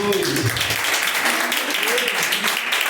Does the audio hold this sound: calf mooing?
no